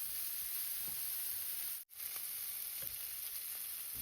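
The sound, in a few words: frying onions and tomatoes with turmeric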